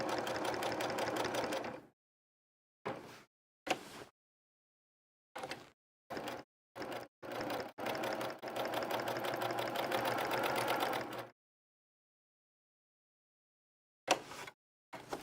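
Domestic sewing machine stitching over the top of a quilt, a close steady whirring hum in bursts: a long run, several short stop-start spurts, one long run of about four seconds, then a final brief burst after silence.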